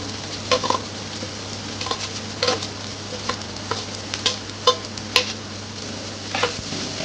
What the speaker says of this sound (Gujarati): હવે આ આપણે ઝીણા સમારેલા કાંદા પણ નાખી દઈશું અંદર.